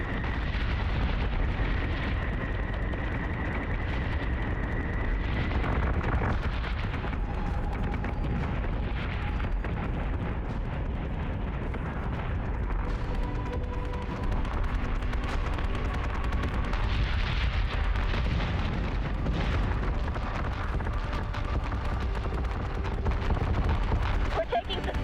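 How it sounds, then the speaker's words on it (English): Sustained weapons fire and explosions in the space combat game Battlestar Galactica: Deadlock, a continuous dense roar of booms and blasts lasting the whole stretch, with tonal whines and effects layered over it. "We're taking sustained fire."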